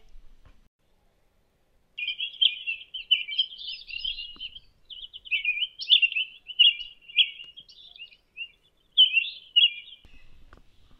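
Birds chirping outdoors on a bird-watching day, bright repeated tweets in bursts that come and go, with short pauses between phrases and no talking.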